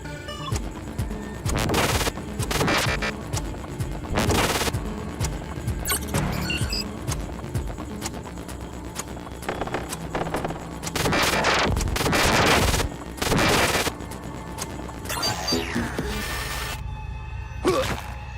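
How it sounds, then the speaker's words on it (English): Hostile turrets firing in Prey, with bursts of rapid loud gunfire, crashes and impacts repeating across the stretch, alternating with quieter gaps. "Why are these turrets hostile all of a sudden?"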